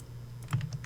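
Quick keystrokes on a computer keyboard, a short run of several crisp clicks over a steady low hum, close and fairly soft, with no voices.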